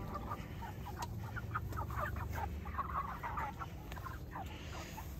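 Several chickens clucking in short, overlapping bursts against a steady low background hum, fairly close and continuous.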